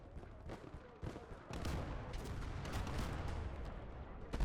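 Tank cannon and gunfire in the Warhammer 40K strategy game Indomitus Conquest, a dense run of repeated blasts and rumbling impacts, louder from about one second on and ending in a sharper crack.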